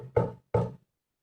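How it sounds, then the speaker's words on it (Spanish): Two firm knocks on a door, close and clear, evenly spaced about a third of a second apart, then silence. "cuando tocaron la puerta"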